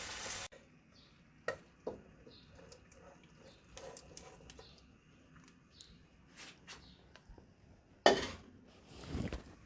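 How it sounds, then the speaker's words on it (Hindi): Browned mutton tipped into a cooking pot of spinach for palak gosht, giving a few clanks and scrapes against the pot over a quiet sizzle, ending in louder stirring and clatter. "अब मटन को पालक में डाल देंगे।"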